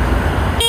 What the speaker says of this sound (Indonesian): Klaksonnya kayak gini suaranya.